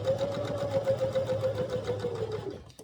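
Close, rhythmic needle chatter from a sewing machine running a seam with a one-centimetre allowance, steady for a couple of seconds before slowing and stopping at the end.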